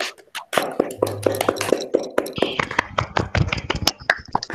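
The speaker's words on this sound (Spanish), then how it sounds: "Aplauso previo, por favor." Scattered clapping in a classroom during an open lecture, irregular sharp claps and taps from a small group, close and uneven rather than a full ovation.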